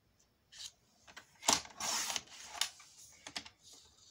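Paper being cut for a scrapbook album, a few short crisp snips and rustles close by, irregularly spaced and fairly quiet.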